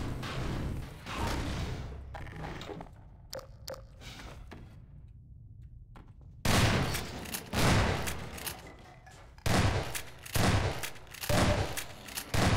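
Shotgun blasts in the Half-Life 2 video game, a quiet stretch giving way to several loud, booming shots in irregular succession, each with a heavy thump and short ringing tail.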